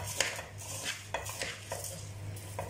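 A spoon scrapes and knocks against a pot while cream skimmed from the top of milk is stirred into rice, a quiet run of repeated clinks and scrapes with no voices.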